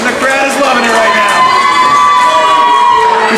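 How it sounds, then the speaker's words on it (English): A wrestling crowd cheers and shouts continuously at a live match, loud, dense roaring voices filling the hall throughout without break. "And the crowd is loving it right now."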